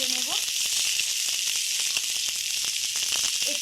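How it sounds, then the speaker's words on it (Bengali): Sliced onions frying in a pan pushed beside eggs, a constant close sizzle with scattered crackles and light spatula clicks throughout. "ডিমটাকে এক সাইডে করে পেঁয়াজ ভেজে নেব"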